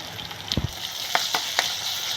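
Turmeric, ginger and garlic fry with fenugreek in a hot pan, a continuous sizzle with a few brief spoon knocks and scrapes standing out close by.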